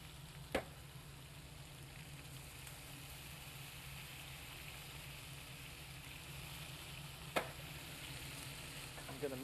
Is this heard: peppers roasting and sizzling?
yes